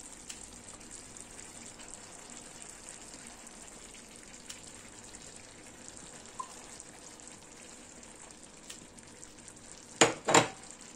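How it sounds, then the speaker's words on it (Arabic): Onion goes into a lamb tajine with fennel and peas, steady broadband frying sizzle holding throughout at moderate level, ending with a pair of sharp louder bursts near the close. "دابا غادي نضيف البصله"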